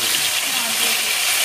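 Hot oil hissing and spattering in a pan as shol fish fries for a ridge-gourd fish curry: a steady, close, bright sizzle with no break, and faint talk beneath it.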